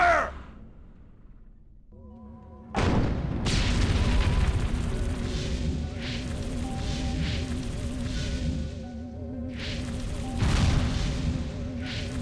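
Heavy video game gunfire and booming blasts erupt after a short quiet opening, a sustained loud barrage of thuds and shots with a surge of impacts near the end, with no talk.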